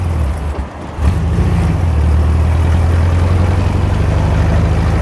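A 1970 Volkswagen Manx-style dune buggy engine with a Stinger exhaust idles loudly and steadily up close. A deep, throbbing rumble holds level after a brief dip near the start.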